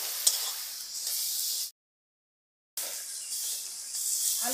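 Prawns sautéing with cumin and turmeric in a pan make a soft, hissy sizzle with light stirring, cut by a full second of silence partway through before the frying resumes.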